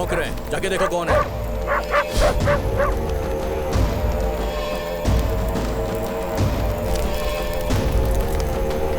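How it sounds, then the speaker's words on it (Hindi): Dogs bark, yip and whimper over several seconds in a film scene, loud and repeated, mixed with voices speaking throughout. "कुत्ते भौंक रहे हैं, जाके देखो कौन है।"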